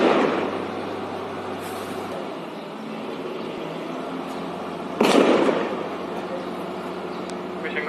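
Gunfire during an armed encounter in Handwara: two sharp reports, one at the start and a louder one midway, over a constant rushing background.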